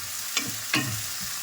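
Onions and green chillies frying in a pan with mustard seeds and salt, a soft steady sizzle with two quick scraping stirs of a spoon, close and quiet.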